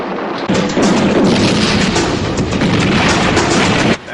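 Movie explosions from a low-budget action film, a dense roaring blast of booms and crackling debris sustained for several seconds, loud and continuous before cutting off abruptly.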